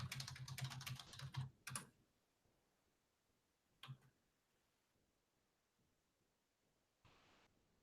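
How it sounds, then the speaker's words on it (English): Fast clattering keystrokes on a computer keyboard fill the first two seconds, then a brief cluster of clicks follows, with faint room noise in between. "Hang on, I'll type into the thing."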